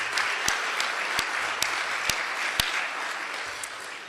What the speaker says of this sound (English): Let's give them all a big round of applause for their tremendous leadership.